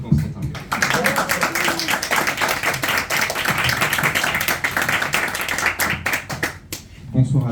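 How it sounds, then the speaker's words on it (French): An audience at a talk on dark energy applauds for several seconds, a crisp, fairly close round of clapping that begins after a brief voice and ends with a speaker starting to talk. "on applaudit pour Constantin."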